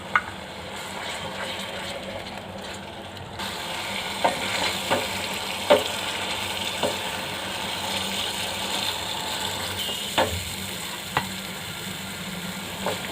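Tomato puree sizzles and fries steadily in a pan while a spoon scrapes and taps against the metal now and then, close up and continuous with no talking.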